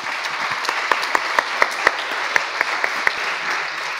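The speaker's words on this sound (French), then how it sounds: "On peut vous applaudir," A conference audience applauds the team after a heritage technology presentation, a moderate, even patter of clapping with a few sharper individual claps standing out near the front.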